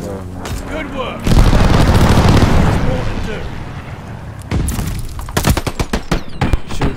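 Video game gunfire rattles in loud, sustained volleys, a long dense burst followed by rapid choppy shots, with game voices calling out over the shooting.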